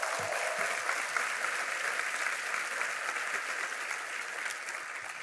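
A church congregation applauds in a steady, continuous patter of many hands, moderately loud and unbroken, with a few slightly sharper claps near the start.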